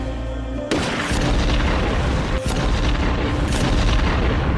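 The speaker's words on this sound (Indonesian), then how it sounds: "menembak salah satu bom pemicu yang kemudian meledakkan bom-bom yang lain" Bombs in an action film scene going off in a chain after a trigger bomb is shot: a sudden heavy boom, then a loud sustained rumbling roar with further blasts bursting through it.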